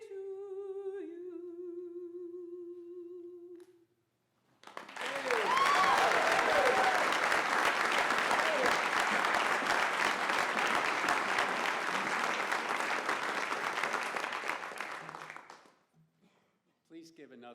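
An audience at a university chancellor's address bursts into loud, sustained applause after a sung alma mater, the full crowd clapping steadily for about eleven seconds before it cuts off; singing is heard just before.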